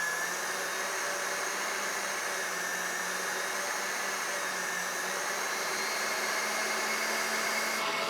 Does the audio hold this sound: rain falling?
no